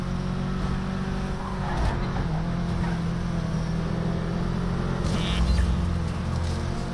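An all-wheel drive car slides through corners in Project Cars 3, its engine droning steadily with shifting pitch and a brief louder rumble near the end, heard alone without talk.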